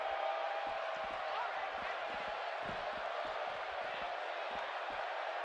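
Steady roar of a large wrestling arena crowd at a SmackDown event in the WWE 2K17 video game, loud and continuous throughout with scattered thumps and impacts underneath, while a commentator talks over it.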